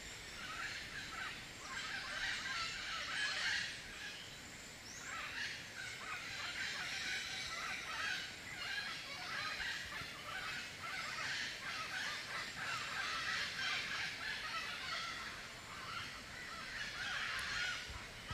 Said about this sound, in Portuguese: E aqui em cima tem uns papagaios fazendo barulho aí.